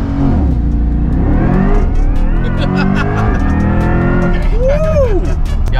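Corvette E-Ray launching hard from a rev drop, its engine note climbing loud and continuous through the pull while people briefly talk and shout over it.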